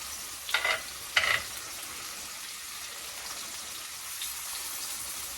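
Meat searing in a hot pan, a soft steady sizzle broken by two brief, louder bursts of spattering crackle near the start, then a quieter even hiss.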